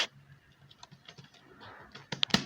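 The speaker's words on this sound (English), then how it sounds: "I'll just type in West Africa" Typing on a computer keyboard while setting text for a business card design in Photoshop, a quick irregular run of soft key clicks, close and quiet, ending in a few sharper taps.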